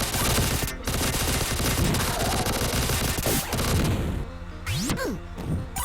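Rapid-fire power-up shots in the Vectorman video game crackle in a dense, continuous burst of game sound effects, loud throughout, with a few sweeping tones and impacts near the end and no talk.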